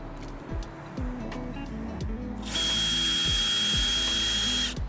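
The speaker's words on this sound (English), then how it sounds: "we need to like pre-drill the holes for the screws" Power drill pre-drilling screw holes for a Maxxair roof fan during a storm, a loud, high, steady whine starting midway and running about two seconds over rumbling background noise.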